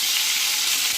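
Pointed gourd (potol), coated in salt and turmeric, frying in hot oil with a steady, dense sizzle that stays loud and even throughout, with no voices.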